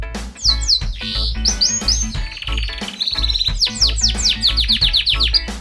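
A male Gloster canary sings close and loud, rapid rolling trills and chirps strung together in bright, rhythmic bursts.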